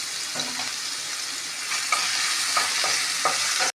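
Crushed ginger and garlic frying in a mix of oil and ghee give a bright, steady sizzle up close, broken by a few scraping stirs of a spatula, then cut off abruptly, with no voices.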